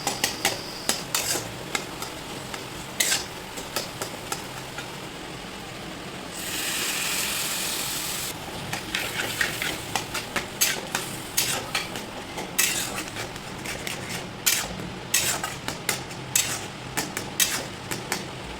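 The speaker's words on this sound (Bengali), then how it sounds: "দিয়ে কিছুক্ষণ কষিয়ে নিয়ে তারপর জল ঢেলে দেব।" Potato and ground fried chickpeas are stirred and sautéed in a pan, a spoon scraping and clinking against the metal in quick repeated strokes over a steady low sizzle, close and distinct.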